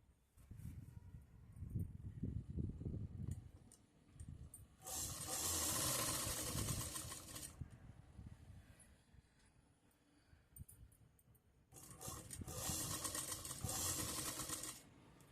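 Sewing machine stitching a zipper pocket on a pair of pants, running in two sustained bursts of steady mechanical whirring with quieter handling noise and pauses between them.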